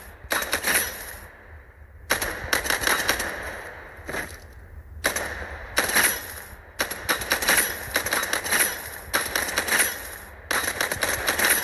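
Rapid automatic gunfire rattles in bursts at a firing range in a mobile shooter video game, loud and close, with short pauses between volleys and no talk over it.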